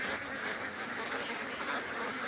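Ducks quack in a swampy outdoor spot, a dense, continuous chatter of calls at steady loudness with broadband outdoor noise and no clear talk.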